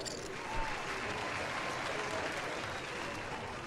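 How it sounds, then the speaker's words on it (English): An audience claps at a live poker tournament at a sports club as a player is eliminated, a steady, moderately distant patter of applause with a voice speaking faintly underneath. "round of applause to you, Ryan."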